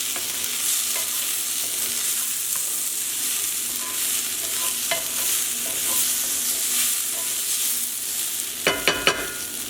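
Salt and pepper being stirred into a frying pan of stir-fried bok choy and carrots, a constant sizzle with soft scraping strokes, ending in a few sharp metallic clanks of utensil against pan.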